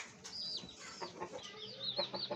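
Soft, repeated hen clucks and short chirpy calls from a lice-infested hen, fairly faint and close, in an otherwise quiet setting.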